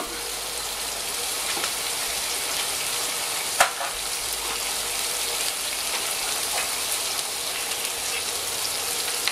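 Onion sizzles and fries steadily in a pan at the start of a sauce, a dense, even crackle that runs throughout with one sharp clink partway through.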